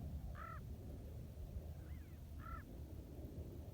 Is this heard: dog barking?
no